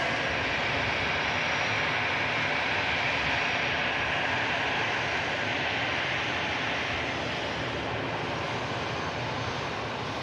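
An Airbus A321neo lined up for departure to Barcelona at Manchester Airport, heard as a constant, loud, even engine roar that holds steady throughout with no voices.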